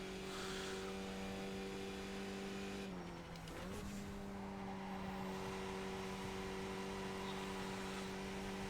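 Tyres squeal briefly on a Skip Barber race car in the iRacing sim at Interlagos, a short skid over the steady, loud, close engine drone that runs throughout.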